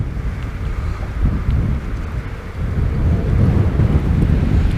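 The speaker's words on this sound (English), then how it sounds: "This wind's getting up now. It was quite strong before, but now it's blowing a gale." A gale gusts across an exposed fishing spot, heavy low rumbling buffeting against the microphone that surges and swells, growing stronger in the second half, with no voices.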